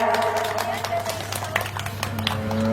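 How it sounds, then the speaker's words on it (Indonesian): Children on a school tour at a Sundanese cultural tourism site clap, with scattered, uneven bursts of applause mixed with voices and background tones. "Iya, tepuk tangannya mana yang meriah?"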